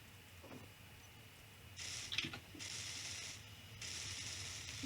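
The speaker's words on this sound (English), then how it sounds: "Getting this all nice and welded." Welding tool working on ship blocks in the video game Space Engineers, a steady hissing buzz that switches on and off in several bursts over a low ambient hum, with faint mechanical clicks.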